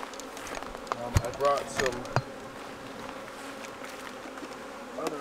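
A strong colony of honeybees hums and buzzes steadily around an open hive, close by, while a person talks briefly over the insect drone.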